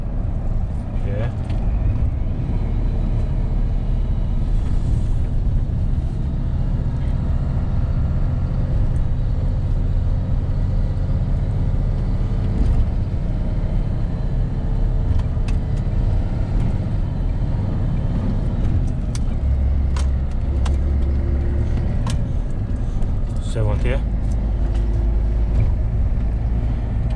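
A MAN TGM 15.250 HGV truck engine drones steadily while driving on the A444 and slowing from about 30 mph, a continuous low rumble under someone talking.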